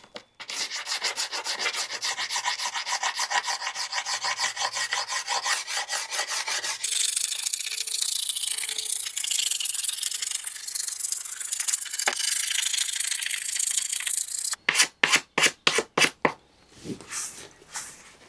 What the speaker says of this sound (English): I think I need to do some scraping